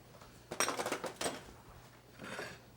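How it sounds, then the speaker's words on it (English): A plate is brought over and set down on a kitchen counter, giving a few quick clinks and clatters of dishware up close, then a softer shuffle. "So, bring our plate over here."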